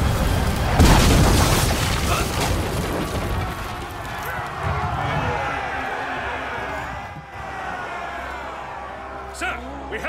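A catapult shot booming in a video game, a heavy low blast up front followed by rumbling crowd and battle noise, with a voice talking over it.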